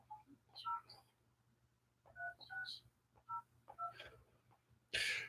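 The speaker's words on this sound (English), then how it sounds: "I'm going to call someone now." A phone being dialled during a live psychic call-in session: a run of short paired telephone keypad tones in quick clusters, fairly quiet over a low hum, ending in a brief louder burst.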